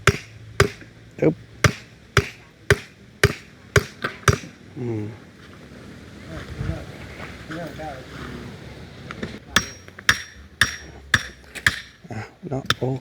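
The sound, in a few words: hammering stakes to mark house post positions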